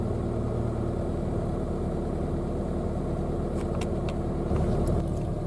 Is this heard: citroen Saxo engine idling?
yes